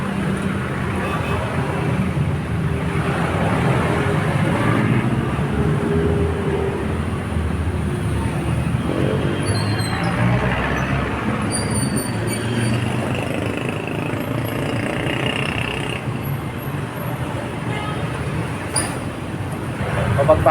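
Steady roadside traffic beside a national highway in Barangay San Antonio, Laguna, a continuous low rumble of passing vehicles throughout, with a voice talking over it.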